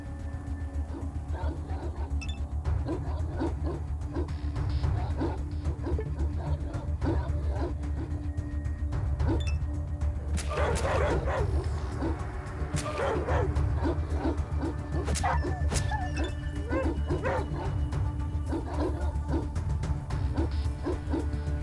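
Dogs bark, yip and whimper in the post-apocalyptic game Atom RPG: repeated short barks scattered through a constant low rumble of game ambience, with clusters of sharper yelps in the middle.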